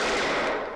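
Gunfire from a scene in the 1988 film Who Framed Roger Rabbit, a brief dense burst of shots that stays loud and steady for under a second with no talking.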